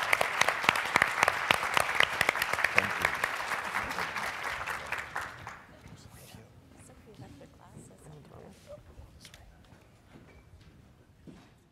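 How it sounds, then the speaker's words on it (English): Audience applause for a panel of early-childhood leaders at a conference, a dense burst of clapping for about five seconds that fades into scattered claps and room noise with faint talk. "Let's give a round of applause to these extraordinary leaders."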